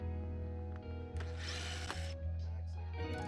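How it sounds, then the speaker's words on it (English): Power drill taking screws out of a roof fan on top of a bus in windy conditions, a close whirring motor that revs up in short bursts over a constant hum, with no talking. "I'm on top here to take the screws out to remove the top part of the fan."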